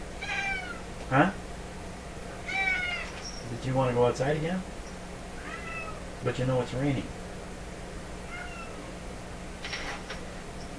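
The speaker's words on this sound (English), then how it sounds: "I think even my cat's a little upset about this." A pet cat in a workshop on a rainy day gives several separate drawn-out meows, close by and fairly loud, with someone talking softly to it in between.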